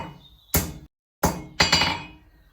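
Hot forged iron door latch being flattened with a hammer: three loud, close metallic strikes, each ringing with a clinking tail, the first alone and the last two spaced closer together, with no talk.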